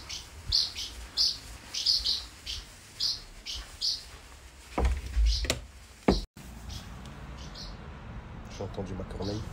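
Parakeets give short, bright repeated chirps in quick bursts, then a few knocks and handling noises indoors, with talk nearby.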